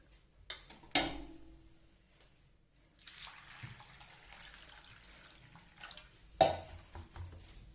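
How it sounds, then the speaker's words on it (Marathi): Water poured over sago pearls in a bowl to soak them: a soft rushing pour lasting a few seconds, framed by a few sharp knocks and clinks of the vessel, with no talking. "साबुदाणा बुडेल इतपत पाणी टाकायचं त्याच्यात।"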